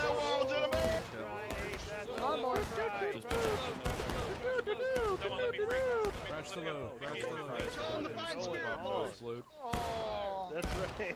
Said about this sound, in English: They're shooting at us. Do not. Holy. Oh, they just shot. They just volleyed at us.